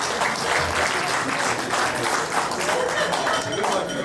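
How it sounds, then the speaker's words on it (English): Steady, full applause from guests at a wedding reception at Panorama House, with many hands clapping at constant loudness and some voices mixed in. "Big round of applause for Andrew."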